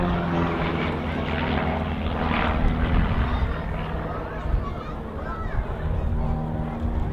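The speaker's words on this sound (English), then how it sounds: "so 2 aeroplanes fly as one" Two propeller aeroplanes flying close formation aerobatics at the Scottish Airshow make a steady, loud engine drone that swells and eases, running under continuous commentary from an announcer.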